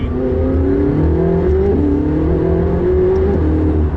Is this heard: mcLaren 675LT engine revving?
yes